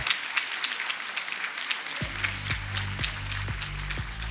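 Graduates and their audience applaud at a Master's degree ceremony in human resources management, with a steady crowd clap. Midway, a regular low thumping pulse joins in under the clapping.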